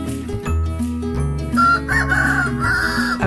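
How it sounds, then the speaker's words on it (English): A toy chicken coop's rooster crow, synthetic and tinny, rings out once over a steady musical backing, rising and wavering before fading. "Rooster."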